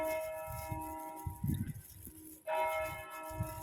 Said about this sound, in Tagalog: Nag-bell na guys. Ang simbahan.